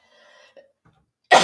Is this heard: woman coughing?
yes